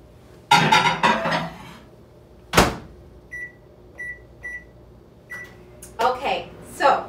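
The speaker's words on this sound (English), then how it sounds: "Going to put this back into the microwave on high for 3 more minutes." A microwave oven set to high for cooking shrimp or salmon fajitas: a solid door thump, then a short series of clear electronic keypad beeps, followed by quieter clicks and rattles nearby.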